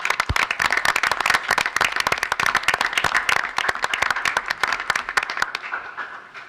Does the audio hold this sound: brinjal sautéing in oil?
no